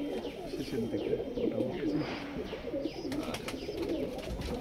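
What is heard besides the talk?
pigeons cooing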